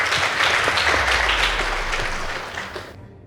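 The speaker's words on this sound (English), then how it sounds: "Please give them a round of applause." School debate audience applause, dense and steady clapping from many hands, fading slightly before cutting off abruptly near the end.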